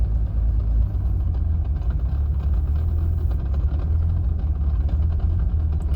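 A car engine fitted with a FuelTech FT450 idles with its RPM raised a little, a steady, loud, low rumble that holds evenly throughout with no voices.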